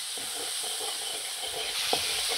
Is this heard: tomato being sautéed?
yes